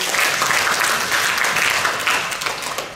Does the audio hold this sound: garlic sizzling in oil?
no